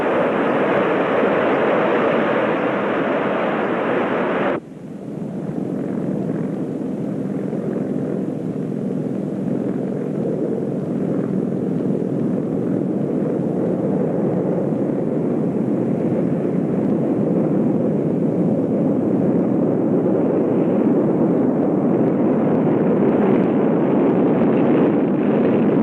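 The XB-70 bomber's jet engines roar loud and steady on the takeoff roll, a broad rushing blast that shifts abruptly in tone early on and then keeps up a continuous, powerful rumble with wind buffeting.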